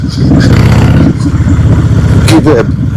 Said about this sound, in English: get some wind noise going, a bit of engine noise going